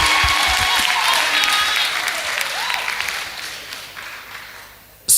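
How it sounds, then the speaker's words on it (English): A debate audience applauds both teams after the closing speech: dense, steady clapping that fills the room, then thins and fades over about five seconds before a brief loud bump at the very end. "Can we give both teams a massive round of applause,"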